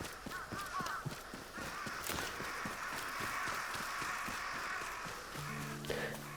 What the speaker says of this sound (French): ils vont fermer leur gueule un peu, les corbeaux.